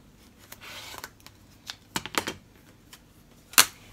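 Scissors cut through fabric for a sewn tablemat, giving a series of short, sharp snips and crisp slicing sounds up close, irregularly spaced, with one louder final cut.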